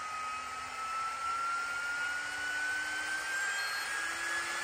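Motor of a GHD Duet 2-in-1 hot air styler runs with a steady close whine and airy rush, its pitch rising slowly as it spins up, with no talking.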